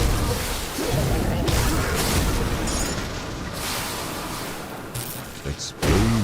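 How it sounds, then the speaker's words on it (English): Dense, continuous rumbling booms and blasts from the video game Grim Dawn: Ashes of Malmouth layer over one another, loud and close, with a few sharp pops and a brief voice near the end. "Explosions, baby."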